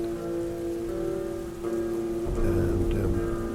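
Steady rain falling in a film scene, a dense continuous hiss that swells louder toward the end over a sustained low tonal hum.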